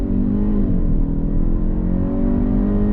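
2022 Kia Stinger GT-Line sport sedan accelerating under throttle, with a loud, steady engine drone heard from inside the car and a brief pitch dip around a gear change before it climbs again.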